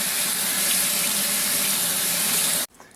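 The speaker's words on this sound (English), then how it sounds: "Right into the strainer, and that is cold water running." Cold tap water pours steadily into a kitchen strainer, a loud close rushing hiss that runs unbroken and then stops abruptly as the tap shuts off.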